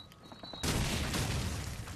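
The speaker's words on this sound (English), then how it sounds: "Oh. Flashbang. First stun." A flashbang grenade in Call of Duty 4 detonates with a sudden, sharp broadband blast, followed by a sustained loud ringing hiss that fills the rest of the moment after a quieter lead-in.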